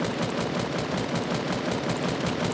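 Rapid automatic gunfire in a squad-based multiplayer shooter game, a dense continuous burst of shots filling the whole stretch, loud and close without talk.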